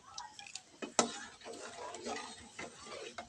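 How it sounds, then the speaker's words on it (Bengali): Rice pudding (payesh) is stirred in a pot after sugar is added, soft scraping and light clinks of a spoon against the pot with one sharp tap, quiet and close. "চিনিটা দিয়ে ভালোভাবে নেড়ে চেড়ে দেবেন"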